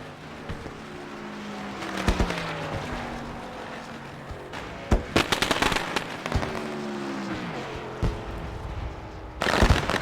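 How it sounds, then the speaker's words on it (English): Fireworks bursting over the Charlotte race track at an All Star series race, a string of sharp pops and crackles with a few bigger bangs, heard over a steady hum of passing cars. "As the fireworks go off here from Charlotte"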